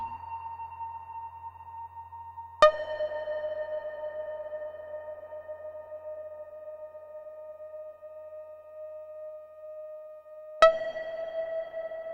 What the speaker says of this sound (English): It's making really loud sonar pings.